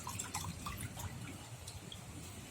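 Water dripping from a squeezed sponge into a bowl during a children's fine motor skills activity, a quick run of small wet plinks in the first second, then fainter trickling, quiet and close.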